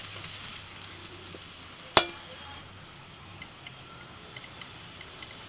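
Beetroot frying over low heat in a pan gives a faint, quiet sizzle, broken by one sharp metallic clink of a stirring utensil and a few soft scrapes.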